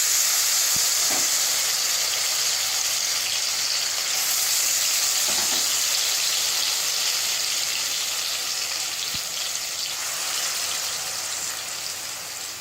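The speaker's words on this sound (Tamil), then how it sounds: "இப்போ இதே கடாயில் துருவின பூசணிக்காயை இதில் சேர்த்துக்கலாம்." Grated pumpkin for halwa frying in a kadai, a steady loud sizzle and hiss running throughout with a few faint stirring knocks and no talk.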